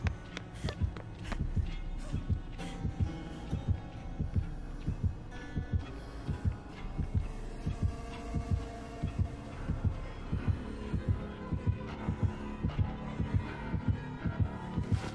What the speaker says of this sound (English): That's why I'm hearing heartbeats.